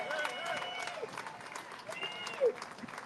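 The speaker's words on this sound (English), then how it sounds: "give Jake and Sarah Adams a huge, huge Philadelphia round of applause" Crowd applause at an outdoor street renaming celebration for Jake and Sarah Adams in Philadelphia, a steady wash of clapping with cheers and voices mixed in throughout.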